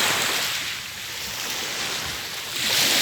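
Sea waves wash onto a clear, empty beach in a steady, broad rush of surf, loud and close, with gusts of wind buffeting the microphone.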